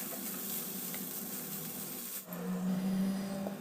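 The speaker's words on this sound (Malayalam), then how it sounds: "വെജിറ്റബിളിൻ്റെ കൂടെയിട്ട് ഒരു രണ്ട് മിനിറ്റ് നമുക്ക് ഇതൊന്ന് ഫ്രൈ ചെയ്ത് കൊടുക്കാം" Chicken with vegetables and tomato sauce fries in a pan, a soft, steady hiss at low level, with a faint hum and a slight shift in tone partway through.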